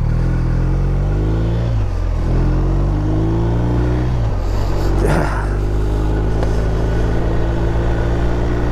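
BMW R1250RT touring motorcycle engine heard while riding, a steady, loud, close low drone with harmonic tones that shift slightly up and down as the revs change, over constant wind rush.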